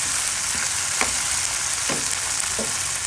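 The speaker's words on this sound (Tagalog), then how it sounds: "Niligisa ko na po ang ating bawang, sibuyas, luya," Garlic, onion, ginger and tomato sautéing in a pan: a loud, constant close-up sizzle with a few soft stirring scrapes over it, and no voices.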